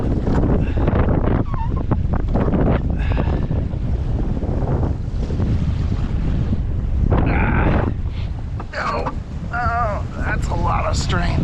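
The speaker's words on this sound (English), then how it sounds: "just trying to sail her a bit" A sailboat under sail in strong wind, with heavy, constant wind roar buffeting the microphone and water rushing beneath, while someone talks over it.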